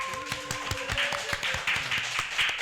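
A small group claps their hands at the close of a culture podcast, a handful of fairly close, uneven claps with a faint tonal hum and some other background sound underneath.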